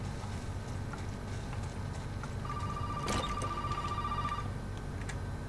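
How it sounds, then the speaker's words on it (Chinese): A telephone in the Resident Evil 7 video game rings with a thin electronic tone lasting about two seconds over a steady low background drone, with no talking. "听埋电话先。"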